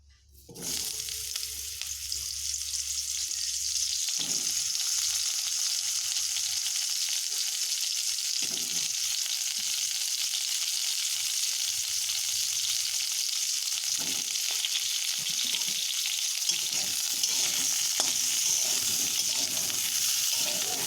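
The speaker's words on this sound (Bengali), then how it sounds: "এবার আমরা পটলগুলো হালকা করে ভেজে নেব" Continuous loud sizzling of pointed gourd frying lightly in hot oil, a steady bright hiss with occasional soft stirring knocks.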